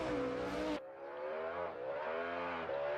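A BMW drift car slides through an outer zone at a Drift Masters round in Ireland, tires smoking, its engine a loud sustained roar with a sharp gear-shift drop early on and steady revving after.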